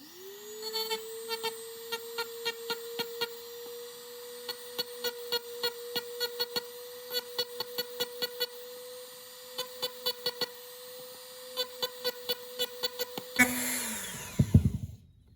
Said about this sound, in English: We're just gonna Dremel off those just a little bit